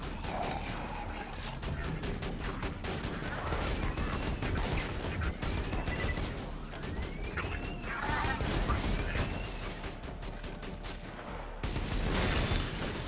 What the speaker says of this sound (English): Might as well make use of my grenades while I can.